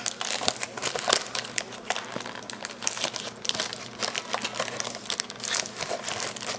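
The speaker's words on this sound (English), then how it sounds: "And I forget that this freaking plastic is so difficult to open sometimes." Stiff plastic wrap on a 2019 Topps Update Series baseball card blaster box crinkles and tears in continuous close, busy crackling bursts with no talk.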